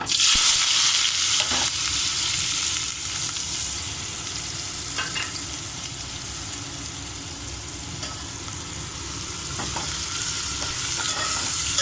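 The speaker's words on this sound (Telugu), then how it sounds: "ఇప్పుడు మనం పచ్చిమిర్చి ఉల్లిగడ్డ వేసేసుకుందాము." Green chillies and onions hit hot oil for egg fried rice, giving a loud, continuous sizzle with occasional stirring clatter, the frying hiss easing slightly after a burst at the start.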